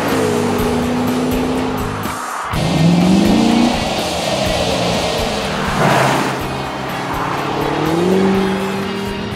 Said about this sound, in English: Put your foot down on the throttle and you get this